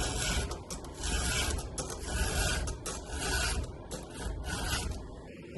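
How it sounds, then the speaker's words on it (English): A round file rasps across a tooth of a Dewalt chainsaw chain in quiet, repeated strokes, each scrape rising and falling in a steady back-and-forth rhythm. "filing, I'm trying to get that top edge straight"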